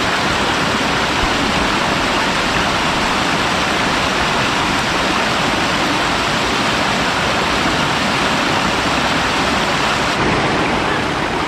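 Strong river current of the Magbais River in Claveria, Misamis Oriental, rushing beneath a bridge at a cold natural pool, a dense, steady broadband roar of churning water, loud and close, continuous without pause.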